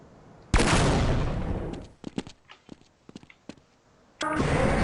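Gunfire in the Half-Life video game aimed at a tripmine: a loud blast at the start trails off into a string of sharp, separate shots, then a second loud burst near the end, with no talking.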